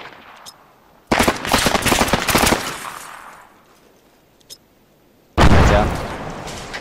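A loud grenade blast in an airsoft game, a sharp burst with rattling debris-like crackle lasting over a second, followed by quiet, a faint tap, then a second sudden heavy bang.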